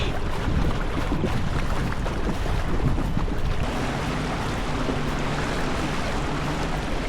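A jet ski engine drones steadily while moving across a Florida waterway, with constant wind buffeting the microphone and no voices.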